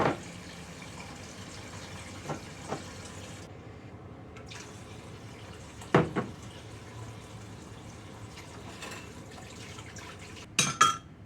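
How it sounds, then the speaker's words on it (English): A spatula covered in buttercream is rinsed under a hot running kitchen tap, giving a steady soft stream of water with a few louder clinks and splashes as it is moved about. "I'm going to clean this off under some hot water"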